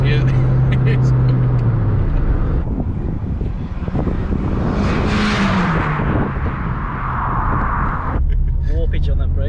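A Ford Fiesta ST 150 fitted with a turbo kit accelerates hard, its engine note rising loud and close under excited talk from people inside the car.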